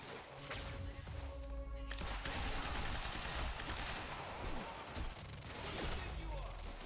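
Sustained gunfire in the action video game Quantum Break, a dense, loud, continuous clatter of shots and impacts filling the whole stretch with barely any letup, with possible voices buried in the din.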